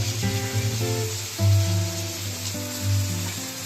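Fish frying in hot oil for a fish curry, a continuous soft sizzle with faint stirring clinks, fairly quiet and without speech.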